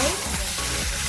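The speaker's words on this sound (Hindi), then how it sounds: "ये चिकन फ्राई बना रहा है" Chicken frying in a pan gives a dense, steady sizzle and crackle throughout, close and fairly loud, with no clear break in the noise.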